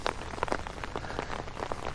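Heavy rain pours down outdoors at Lake Norman in Mooresville, North Carolina, a steady dense hiss with scattered close drops and splashes, loud and continuous with no talking.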